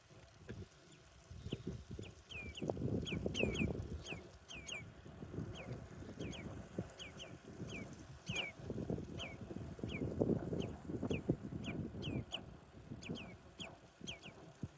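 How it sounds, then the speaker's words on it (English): Birds on the Faroe Islands give repeated short, sharp chirping calls in a steady series over a rumbling, bumpy background from riding past on a Brompton folding bike. "birds calling as you're going past them and things"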